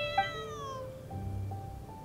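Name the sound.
cat meowing in the video game Genshin Impact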